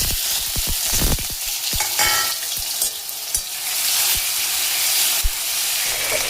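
Potatoes frying in a pan of oil with sugar caramelized for colour, a dense steady sizzle broken by sharp spatula scrapes and clatters, close and loud with no voices.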